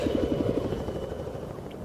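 A military helicopter departs from a combat zone, a steady, loud rotor drone with fast blade chop at the start. The chop fades into a continuous engine roar. No one speaks.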